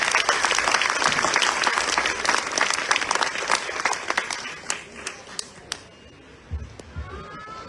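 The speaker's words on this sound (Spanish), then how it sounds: "me gustaría por favor que le recibiéramos con fuertes aplausos" At a book presentation for a memoir, an audience gives loud, dense applause that gradually thins into scattered individual claps before fading out.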